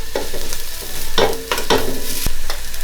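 Spices are mixed into a south Indian style beef curry in a pot, with loud nearby spoon scrapes and clanks against the metal over a low sizzle and no voices.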